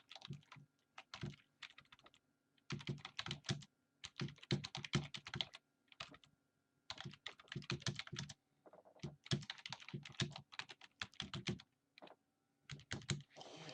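Close, quiet computer keyboard typing of a comment, in rapid bursts of keystrokes broken by short pauses, with no voice.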